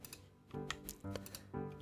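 Quick clicks and clacks of a computer keyboard being typed on, coming in short uneven bursts with brief pauses, close and fairly quiet.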